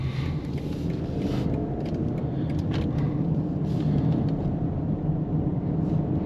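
2023 BMW X3 xDrive30i with a four-cylinder engine on a test drive, a steady low engine and road rumble heard from inside the cabin, continuous and even throughout.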